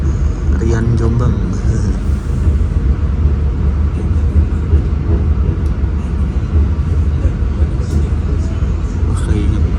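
Gaya Baru Malam passenger train pulling out of Jombang station in Indonesia, a loud steady rumble and rattle heard from on board, with the low roar continuous throughout.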